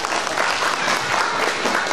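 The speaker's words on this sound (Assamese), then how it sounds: "আপোনালোকৰ মৰম স্বৰূপে এটা হাত চাপৰি জোৰ কৰি দিলে আমি ভাল পাম" An audience at an award felicitation ceremony in Assam claps warmly, a continuous, even wash of many hands that stays steady and fairly loud throughout, with no speech over it.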